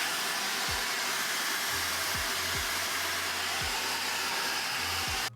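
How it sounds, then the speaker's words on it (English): A handheld hair dryer blows steadily on hair while styling a slicked-back look, a loud continuous whoosh with faint low thumps as the dryer moves, with no talking. "after blow drying for about 30 seconds to a minute, I'll then grab my paddle brush and then start to brush as I blow dry"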